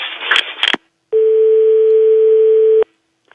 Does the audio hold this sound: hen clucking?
no